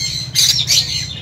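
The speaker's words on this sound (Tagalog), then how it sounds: "Napakarami palang ibon dito ng Sir Walter." Lovebirds in an aviary give two loud, harsh squawks in quick succession, close by, over a low background murmur.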